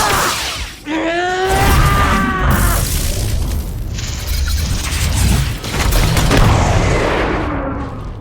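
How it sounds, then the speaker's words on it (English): An overloaded ship reactor explodes in Star Wars Jedi Fallen Order, with a loud roaring blast, rising whine and sustained booming rumble, crackling debris and repeated heavy concussions across several seconds. "Overloaded the ship's reactors. The explosion will mask our escape."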